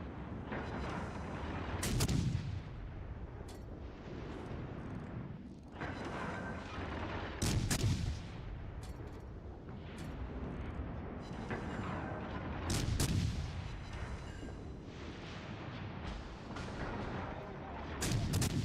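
Warship artillery in World of Warships Legends booms in heavy, loud salvos every few seconds over a constant rumbling battle background, with quieter shots in between.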